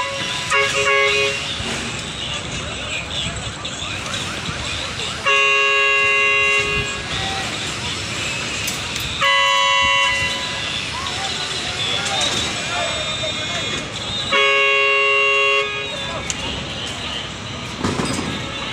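Repeated car horns honk in bursts, loud and close, amid busy street traffic noise and people talking nearby during precast wall installation.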